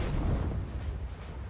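A grenade blast in the video game The Last of Us Remastered: a single heavy, close explosion whose booming rumble fills the moment and slowly fades, with no voices over it.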